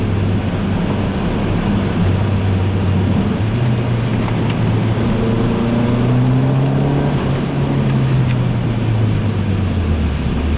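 A Mazdaspeed 3 engine while driving, a loud continuous cabin drone with road roar, the engine note rising gently in pitch midway as it pulls, with no talk over it.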